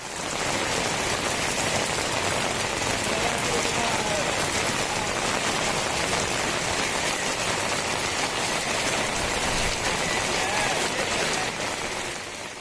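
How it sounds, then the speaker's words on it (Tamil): Heavy rain driven by wind, a loud, unbroken roar of downpour hissing on surfaces, steady and close from start to finish. "காற்றுடன் கனமழை வெளுத்து வாங்கியது"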